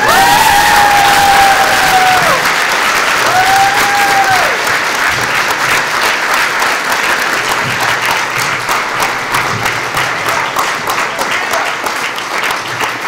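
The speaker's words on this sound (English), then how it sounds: "Give some of a round of applause." Loud audience applause with scattered cheers for Peter Davison and Dan Starkey at a Doctor Who event, steady dense clapping filling the hall throughout, with a few whoops and faint voices mixed in.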